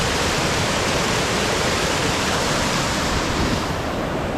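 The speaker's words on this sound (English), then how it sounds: "The water pours down there." Water from the waterfall at Rifle Falls State Park roars steadily with a dense, unbroken rush, loud and close throughout with no voices.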